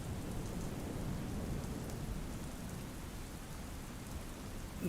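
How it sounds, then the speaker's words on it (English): Heavy rain pours steadily with gusting wind in a storm, a dense, constant roar of falling water close by with no voices. "It's far too dangerous to leave the house in a storm like this."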